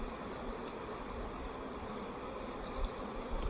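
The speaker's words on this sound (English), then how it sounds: "Since this one is full of bees, I'm going to put it right in my tote." A dense, steady buzz of many honey bees humming close by on a hive frame, continuous and even with no talking.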